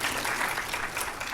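Audience applause fills a city council chamber, dense and steady throughout, a broad wash of many hands clapping at once with no voices standing out.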